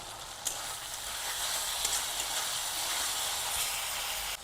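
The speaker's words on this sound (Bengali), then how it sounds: "কেটে রাখা টমেটো দিয়ে আবার একটু কষিয়ে নেব" Chopped tomatoes and slit green chillies sizzle in hot oil in a pan for a rohu fish curry, giving a steady close frying hiss with a few soft stirring clicks and no voices.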